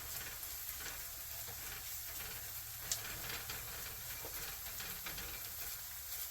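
Channa masala frying in oil in a pan on a stove, a steady close sizzle and hiss with faint stirring scrapes and one brief sharper clack near the middle.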